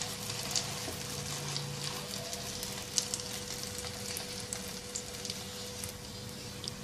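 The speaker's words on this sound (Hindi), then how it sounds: "एक तरफ से फ्राई हो जाए तो साइड तब्दील कर देंगे" Egg shami burger patty frying in a pan, a faint, even sizzle crackling softly with a few small pops, close and undisturbed by voices.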